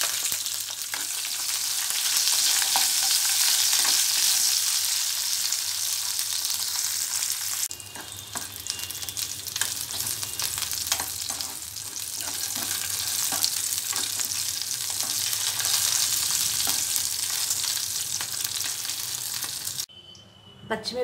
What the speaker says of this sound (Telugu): పప్పులు వేయించుకున్న ఆయిల్లోనే పచ్చిమిరపకాయలు కూడా వేసి ఫ్రై చేయాలి.